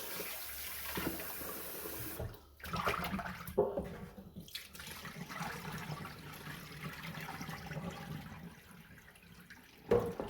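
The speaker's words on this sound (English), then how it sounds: "I'll be washing the yam. I wash with cold water." Cold water running steadily from a tap with splashing as yam is rinsed, close by and continuous, with brief pauses and a clunk near the end.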